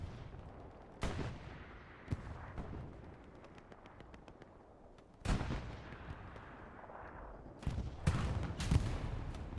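Gunfire and shell impacts hit a medium Sherman tank in a tank battle video game, with heavy booming blasts at irregular intervals over a rumbling battlefield background.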